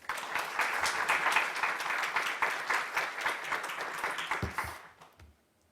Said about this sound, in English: Please give us a big round of applause for our panelists.